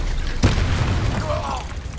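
Confringo fire spell in Hogwarts Legacy bursting as a single sharp explosive boom, followed by a brief rumbling decay, with a spoken voice present over the blast.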